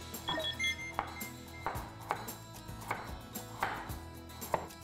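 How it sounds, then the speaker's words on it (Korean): A knife cuts vegetables into half-moon slices on a cutting board, sharp chops landing about once a second, close and clear over a low background hum. "전부 반달 모양으로 썰게요."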